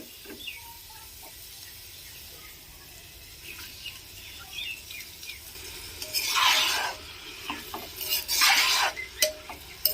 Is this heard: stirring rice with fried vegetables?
yes